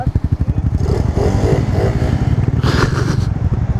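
Small 100cc scooter engine, upgraded from 50cc, chugging and pulsing steadily up close while riding, with a brief rattle partway through.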